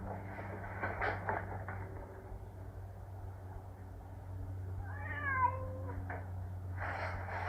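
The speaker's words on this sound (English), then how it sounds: "It really is a very cute cat." A cat meows a few times over a low steady background hum, the calls moderately clear and brief, with faint clicks and movement around them.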